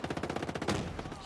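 Rapid automatic gunfire in the tactical shooter Ghost Recon Breakpoint, a fast burst of evenly spaced shots, fairly loud and close, lasting just over a second.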